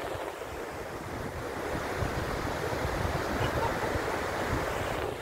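Steady sea breeze and surf along the Boulevard in Molo, Iloilo City, a continuous broadband wash of waves with wind buffeting the microphone, slowly swelling louder, with no voices.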